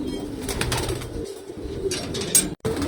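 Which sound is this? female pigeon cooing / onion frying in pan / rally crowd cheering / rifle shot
female pigeon cooing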